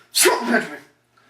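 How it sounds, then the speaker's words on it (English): A single short, sharp sneeze bursts out close up, then quiet. "that was a weird sneeze I just did"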